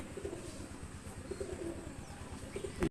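A Madras pigeon coos softly at close range, giving a few low rolling calls in brief bursts, ending with a short bump.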